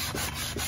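Sandpaper is rubbed by hand over curb rash on an aluminum wheel, giving close, steady back-and-forth scraping strokes with a dry gritty texture and no talk.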